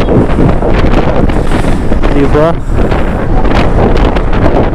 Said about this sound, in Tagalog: kahit malakas yung hangin, kakayanin kaya ng drone natin. Strong wind, oh.